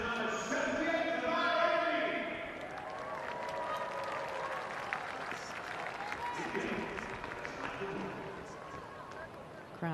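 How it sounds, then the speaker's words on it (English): A cricket crowd at a Commonwealth Games women's match between India and Barbados applauds a player shown on the big screen, the distant clapping and cheering strongest at first then fading under commentary. "Crowd recognising Deandra Dottin on the big screen"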